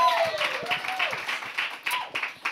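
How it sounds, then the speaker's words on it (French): A few people in a podcast studio clap lightly in quick bursts while a voice whoops and talks over the top. "On applaudit le segment Ça m'a vieilli."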